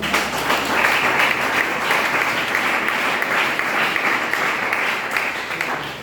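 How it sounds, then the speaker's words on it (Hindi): Steady, loud applause from a crowd, clapping continuously for several seconds with no pauses. "एक बार जोरदार ताली।"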